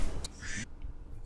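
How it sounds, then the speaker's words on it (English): A phone alert sounds as a duck-like quack, a brief nasal honk standing out close and clear over a low background hum. "What was your phone alerting you to with that quacking sound?"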